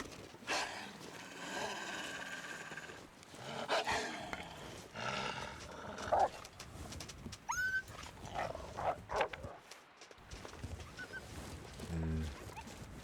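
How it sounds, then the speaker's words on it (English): A wolf in the survival game The Long Dark snarls and barks in rough, repeated bursts over a steady wind-like game ambience, with a brief rising whine midway, moderately loud and with no talk. "wolf there"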